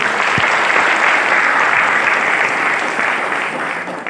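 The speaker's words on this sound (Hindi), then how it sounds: "एक बार दिल खोल के ताली बजाओ।" Dense audience clapping at a business seminar, a steady, close wash of applause that fades slightly toward the end.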